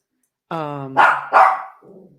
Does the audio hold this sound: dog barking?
yes